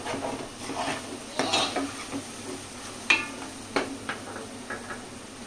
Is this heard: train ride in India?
no